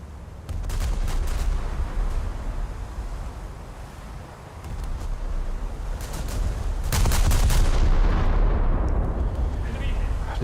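Battleship main guns firing shells in the video game World of Warships, heavy booming blasts and rumbling roars over a constant wind-like wash of sea and engine noise, loud and close.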